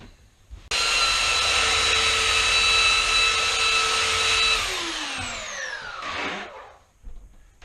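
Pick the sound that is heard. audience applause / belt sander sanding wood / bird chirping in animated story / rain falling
belt sander sanding wood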